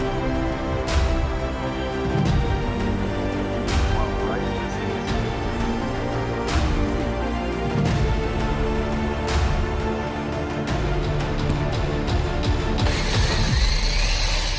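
Ratchet wrench clicking repeatedly as it removes the truck bed bolts from a 1968 Chevrolet C10 longbed pickup, with bursts of rapid pawl clicks in an uneven rhythm, close and fairly loud, with no talk.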